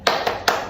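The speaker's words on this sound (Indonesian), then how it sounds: "ada baiknya kita tepuk semangat dulu" A classroom of children does a rhythmic group hand clap, three sharp, evenly spaced claps in quick succession, close and clear with no talk.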